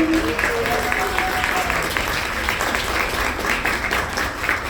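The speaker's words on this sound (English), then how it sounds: "To give them another round of applause, please." Sustained applause from an audience, steady clapping filling the whole stretch without a break.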